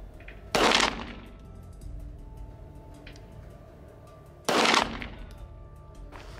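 Two distinct pistol shots on a 50-yard range, each a loud sharp crack with a brief ringing tail, spaced about four seconds apart over a low steady background hum.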